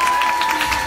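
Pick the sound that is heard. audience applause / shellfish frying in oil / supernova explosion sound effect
audience applause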